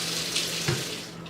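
Hot water runs from a faucet into the tank of a Hoover carpet cleaner, a steady close rushing flow with a brief knock partway through.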